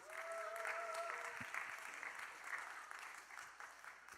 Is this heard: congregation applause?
yes